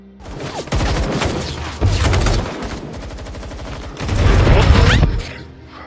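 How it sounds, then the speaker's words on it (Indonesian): Heavy gunfire in an action film battle scene in Afghanistan, with dense automatic bursts and rapid volleys rattling loud and near, broken by brief lulls and several intense surges. "Terlihat aksi tembak-tembakan antara pasukan Kyle dengan musuh sedang berlangsung."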